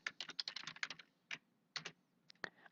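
Quiet, close clicks of a computer keyboard, fast at first, then a few scattered keystrokes after short pauses, with no voices.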